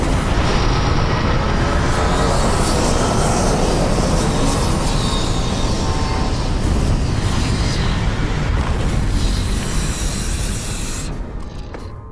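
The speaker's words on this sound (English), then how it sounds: "Landing struts primed. Retros firing." A spaceship in Starfield sets down with its retro thrusters firing, a loud, steady, full roaring blast that holds throughout and tapers slightly at the end.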